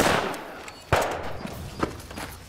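Gunfire in a Mexican crime film set in Chicago: a few sharp, close shots ring out over a noisy reverberant background, one loud crack standing above several fainter bursts.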